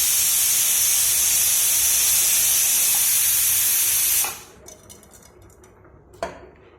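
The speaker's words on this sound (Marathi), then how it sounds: "सगळा तांदूळ मी टाकून घेत आहे" Rice poured into a pot of boiling water for a Marathi-style boiled rice dish, a loud steady hiss and bubbling roar that cuts off abruptly, followed by a few faint clinks of a pot or utensil.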